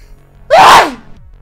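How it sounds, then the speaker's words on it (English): A single loud, close sneeze bursts out sharply and fades within half a second, alone against faint room noise. "Nice sneeze."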